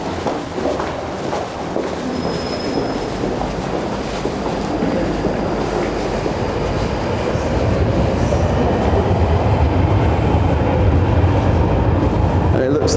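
A London Underground train rumbles steadily through the station at Old Street, a loud, continuous roar of wheels and carriages with a brief high squeal, growing slightly heavier toward the end.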